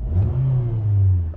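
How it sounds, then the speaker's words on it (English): A Nissan Versa engine free-revving while parked, a close, loud, low engine drone that rises and holds steady through the short burst, with no talking. "So now let's check the free rev."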